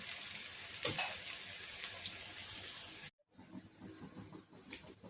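Food sizzles in a pan while a mutton dish is cooked, a soft, steady frying hiss with a brief stir or clatter. It cuts out abruptly, and quieter kitchen sounds follow.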